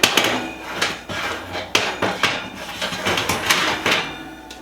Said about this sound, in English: I'm going to scrape and clean the pizza stone